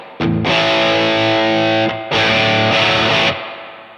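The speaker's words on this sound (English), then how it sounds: "as I've whacked in more overdrive, it's maybe making the reverb just a little bit too much" An electric guitar played through a Headrush MX5 with heavy overdrive and reverb rings out in two loud sustained distorted chords, each stopping abruptly, with a reverb tail after the second.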